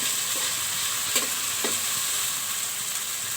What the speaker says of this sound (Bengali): আদা রসুনটা একটু ভেজে নিতে হয় তরকারিতে দিলে